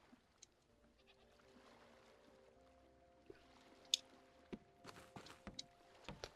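Goats bleat repeatedly in the farm-trading game Old Market Simulator, with several short, thin calls over quiet background music, then a cluster of sharper clicks and taps toward the end.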